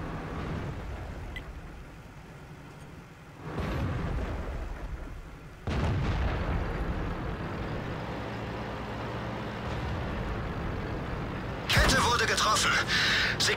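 Tank cannons boom in the World of Tanks video game, a few heavy blasts with rumbling engine noise between them, while a player talks throughout.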